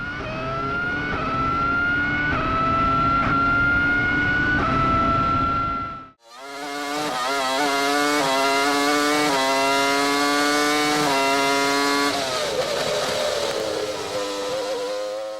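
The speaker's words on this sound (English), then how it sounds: "It sounds like it's being pulled forward by the scream of its own engine." A high-revving Formula 1 engine, heard onboard during a lap, screams continuously, pitch climbing through gears with a brief drop between shifts, loud and close throughout.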